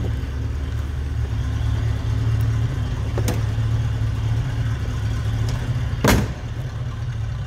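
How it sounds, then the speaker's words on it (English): A steady, low V8 engine rumble from a 1968 Ford Mustang Convertible idling close by in a showroom, continuous throughout, with a couple of faint clicks over it. "Nice little rumble coming out of that V8."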